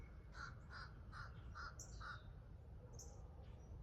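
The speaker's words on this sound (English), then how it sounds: "There are the crows going off in the background." Several crows caw in a quick series of harsh calls, somewhat distant, over a low rumbling background, with a few more calls trailing after.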